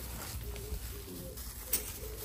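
A dove coos softly from a perch in a countryside house yard in September, low repeated hoots sitting in steady background noise at moderate distance.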